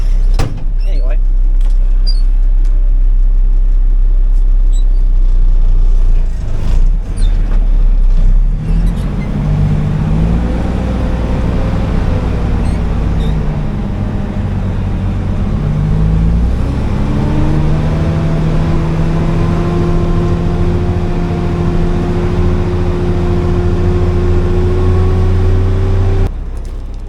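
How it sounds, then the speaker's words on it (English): A truck drives along a road, its engine droning loud and close, with the pitch rising and falling as it shifts and picks up speed. "Probably make more sense just to drive the truck and show you"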